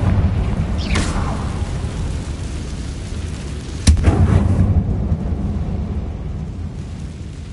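Confringo fire spells explode in the video game Hogwarts Legacy, with a dull boom early and a sharper, louder blast midway, both ringing into a sustained low roar of rumbling debris.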